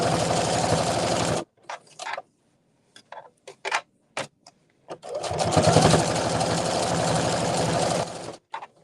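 Sewing machine stitching pillowcase fabric in rapid, even bursts: a long run, then several short stops and starts with small clicks, then another sustained run, close and loud with no talking.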